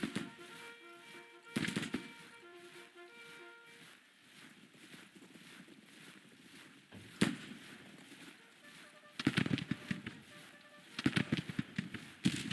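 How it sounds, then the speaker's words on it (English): Volleys of musket gunfire from Abercrombie's troops in a Civil War battle in the strategy game Grand Tactician, sharp bursts of crackling shots at irregular intervals over a low battlefield rumble. "Abercrombie should be opening fire any second"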